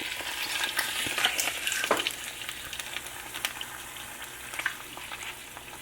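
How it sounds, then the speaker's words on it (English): Eggs sizzle steadily in a frying pan while they are flipped, with a soft hiss running throughout and a few light scraping and clattering touches from the spatula. "I'm gonna go ahead and flip the eggs."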